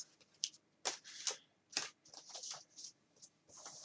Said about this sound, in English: I'll shuffle the deck, draw 3 cards.